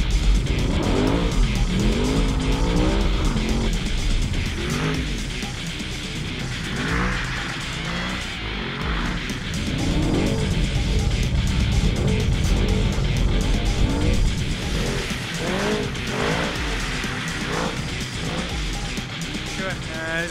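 Audi R8 drifting at a drift challenge, with sustained, loud tire squeal rising and falling over a revving engine as the rear slides through repeated turns.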